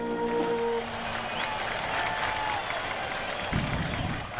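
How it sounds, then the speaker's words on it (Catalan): Stadium spectators applauding after a band plays the British anthem, a steady wash of distant crowd clapping with faint lingering tones, moderately quiet throughout. "Quan la banda anglesa interpreta l'himne britànic, els espectadors arrenquen a aplaudir."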